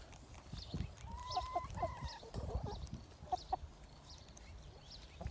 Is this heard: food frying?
no